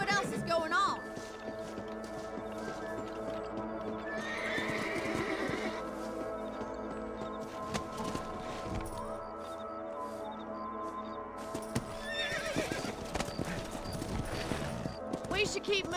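Horses clop along steadily in Red Dead Redemption on Switch, with occasional neighs and whinnies, over a continuous rumble of game audio and a voice speaking.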